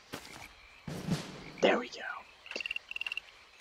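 A frog in the fantasy game Albion gives a few quick pulsed croaks near the end, close and clear, after a short burst of quiet talk and rustling.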